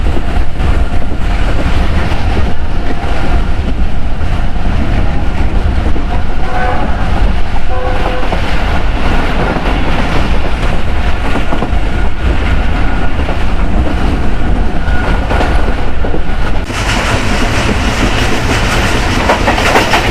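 The Hazara Express train rolls loudly and steadily into Bhulari railway station with rumbling wheels and clattering cars, a horn-like tone sounding partway through as it draws in.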